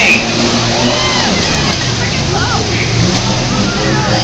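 A demolition derby car's engine revs and accelerates at a county fair heat, steady and loud throughout, with a race announcer talking over the roar.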